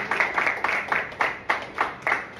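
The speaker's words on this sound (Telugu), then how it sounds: "let's give a kind of applause to these guys over here" An audience at a conflict-resolution talk in Hyderabad claps together in a steady rhythmic beat, about three claps a second, fairly close and moderately loud.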